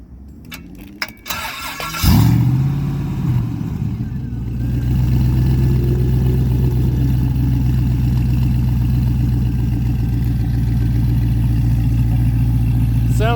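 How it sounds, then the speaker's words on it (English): A DeLorean fitted with an LS V8 cranks over at a car show and fires, settling into a loud, steady, smooth idle that holds strong and even after a brief flare, with faint rattles before the start. "we're back at the DeLorean with the LS. One thing I forgot to ask you, Nick, could you please start it up so I can hear it"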